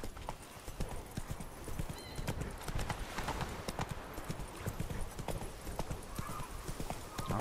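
Horse hooves clip-clop in a steady trotting rhythm in the video game Witcher 3: Blood and Wine, fairly close, with a whinny and a little muffled talk in the background.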